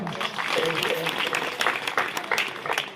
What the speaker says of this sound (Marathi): सगळ्यांनी टाळ्या वाजल्या